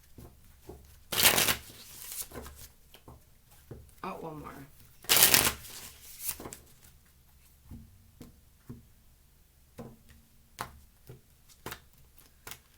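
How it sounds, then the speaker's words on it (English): Two loud bursts of tarot cards being shuffled, riffling sharply, with soft speech and small handling taps between them. "2 more shuffles, please."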